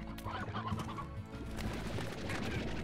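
Rooster and hens clucking in the game Slime Rancher, dense clucking and fowl calls at close range, continuous and moderately loud over game background sound.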